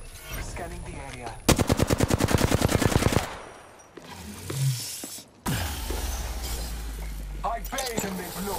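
In a video game firefight, a rapid burst of automatic gunfire rattles for nearly two seconds, followed by shattering and clinking impacts and further heavy firing, with people talking over the action.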